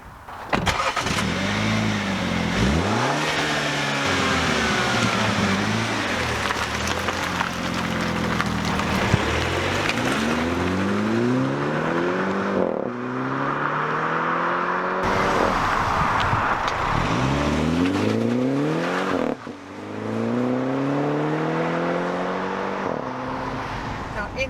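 A 2017 Mini Countryman on 17-inch wheels with 205 Michelin tires, heard from inside as the engine repeatedly revs up through gears with rising sweeps and shifts, over steady road noise.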